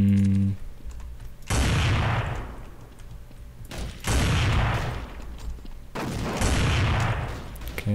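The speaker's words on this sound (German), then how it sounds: "Okay, das war jetzt hier eine Granate, also da gibt es eine riesen Explosion." Three heavy grenade explosions in Counter-Strike: Classic Offensive boom one after another a couple of seconds apart, each a loud burst fading into rumbling debris.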